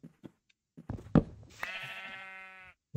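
A sheep in a snowy survival video game gives one drawn-out, wavering bleat up close, preceded by a few soft knocks and thuds.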